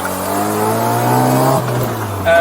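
A modified 1979 Mazda RX-7 Series 1 with a ported 13B rotary engine drones loudly and steadily nearby, its pitch rising slightly then dipping, with a sharp blip of revs at the very end.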